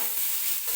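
Corn kernels roasting in hot oil in a kadhai (wok-style pan) give a steady, close crackle and sizzle throughout a brief moment, with no voices.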